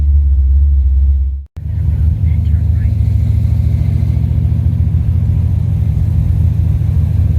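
Cars creeping through a traffic jam on the way to Atlanta Motor Speedway: a continuous low engine rumble and road hum from inside a vehicle, broken by a single brief dropout early on, with no talking.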